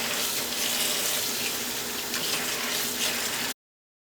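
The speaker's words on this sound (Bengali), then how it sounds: "চালটাকে ভালোভাবে ধুয়ে নিতে হবে" Rice is being washed under a running tap, a steady close stream of splashing water for several seconds before stopping abruptly.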